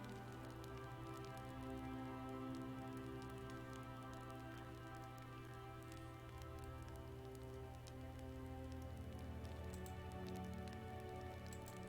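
Steady, soft rainfall outside a window in the video game Gabriel Knight: Sins of the Fathers patters behind a low electronic hum and drone, continuous and even throughout, with no talking.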